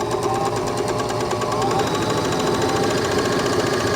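A Bernina L450 serger sews a rolled hem with a fast, steady mechanical whir and rapid stitching rattle, close up and continuous.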